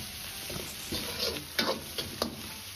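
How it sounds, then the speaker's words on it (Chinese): Pixian chili bean paste is stir-fried in a wok with dried chili pieces, scallion, ginger and garlic for a mala xiang guo, giving a quiet, steady sizzle with a few soft scrapes of the spatula and no talk. "炒出颜色和多余的水分"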